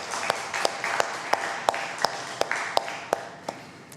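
A church congregation at a Sunday morning worship service claps in steady unison, sharp evenly spaced claps about three per second over a soft background for four seconds.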